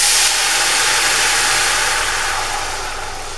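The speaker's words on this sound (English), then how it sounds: "put your water in." Water hits a hot pan while rice cooks, giving a loud, steady sizzling hiss that fades slightly over a few seconds, with no talking.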